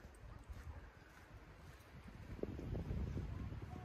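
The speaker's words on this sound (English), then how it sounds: "It is very windy up here today." Wind gusts buffet the microphone on the Tenderfoot mountain hiking trail, a low rumbling roar that swells and fades irregularly and grows stronger toward the end.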